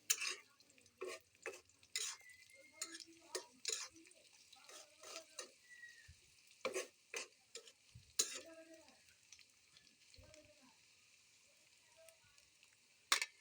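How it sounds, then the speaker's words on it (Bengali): Jackfruit seeds and dried shrimp sizzle in a pan while a spoon stirs them in repeated sharp scraping strokes, close and clear over a quiet background, with no talking. "তো এই পর্যায়ে কিন্তু আমি এগুলোকে ভালো করে নেড়ে চেড়ে ভেজে নেব।"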